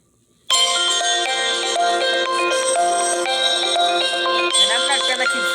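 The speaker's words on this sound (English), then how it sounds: "Today I'm gonna be showing you what kind of ringtones the LG K51 has" The "Life's Good" ringtone on an LG K51 smartphone starts abruptly after a short silence and plays loud and alone as a bright, bell-like melodic jingle that continues to the end.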